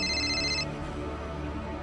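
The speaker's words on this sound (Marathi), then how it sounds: "नलीचा फोन." An incoming-call ringtone chimes on a phone for under a second, a bright electronic tone that cuts off abruptly, leaving quiet room tone.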